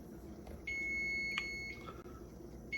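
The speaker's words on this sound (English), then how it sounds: "Timer is up." A kitchen timer gives one sustained high electronic beep lasting about a second, clear but not loud, in a quiet kitchen where dry chickpeas are cooking, with no talking.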